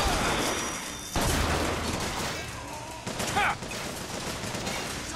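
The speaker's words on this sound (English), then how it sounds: "Get up nice and close with that shotgun." Shotgun blasts in Bioshock Infinite go off amid a chaotic firefight, several sharp loud shots with other gunfire and a busy game din around them.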